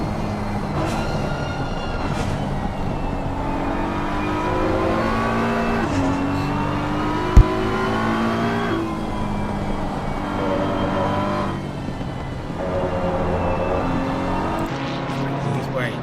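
Race cars circulate at Suzuka in a PC racing game, engines droning and shifting pitch as they accelerate and ease off, with a commentator talking over the steady mechanical hum and a brief sharp knock midway.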